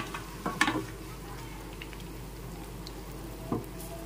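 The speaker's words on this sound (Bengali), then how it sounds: "এবার ফোড়নটা দিয়ে দিচ্ছি, একটু ভালো করে নেড়েচেড়ে ফোড়নটা ভেজে নেব।" Whole spices tempering in hot oil in a pan after frying rohu fish for a yogurt curry, a faint low sizzle with a few soft crackles and stirring knocks near the start and one more scrape later.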